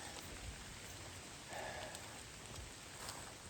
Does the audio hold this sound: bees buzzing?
no